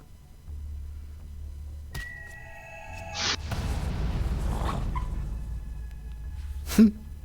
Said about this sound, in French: Le petit cri qu'il a poussé, le chien.